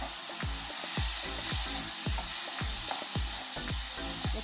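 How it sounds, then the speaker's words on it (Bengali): Prawns coated with turmeric and salt fry in hot oil, a continuous loud sizzle broken by regular, rhythmic strokes of a spatula stirring the pan. "চিংড়ি মাছ কটা ভাজা হোক একটু"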